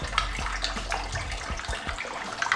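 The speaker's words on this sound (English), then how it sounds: "And now add some water, cold water" Cold water gushes steadily from a tap into a vessel for dissolving brewing salts during a home-brewing session for a Mosaic pale ale, a continuous close splashing rush with no voices.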